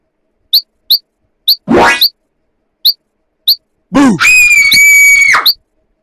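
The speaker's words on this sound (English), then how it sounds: "Red Riding Hood screamed." Red Riding Hood screams in a children's story: after a few sharp chirping blips, a young girl's cry rises and falls, then a longer shrill, wavering scream rings out loud and close, alone without talk.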